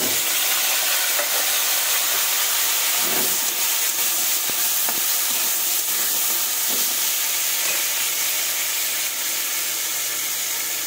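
Potato and eggplant fry in oil in a kadai with a loud, continuous sizzle, with a few brief stirring scrapes against the pan and no voices.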